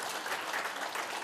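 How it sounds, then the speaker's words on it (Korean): Audience applause at a panel discussion forum, steady dense clapping from a crowd filling the short moment without pause. "큰 박수 부탁드립니다."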